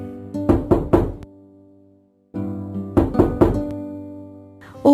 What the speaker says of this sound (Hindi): तभी आधी रात में एक बूढ़ी माई उसके घर आकर दरवाजा खटखटाती है।